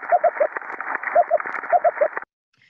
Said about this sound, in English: And that is an ambon damselfish.